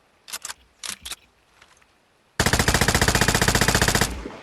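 Full-auto weapon fire in the shooter game Vigor: after a few short tapped shots, a loud sustained burst of rapid, evenly spaced gunshots rattles for about two seconds, then cuts off.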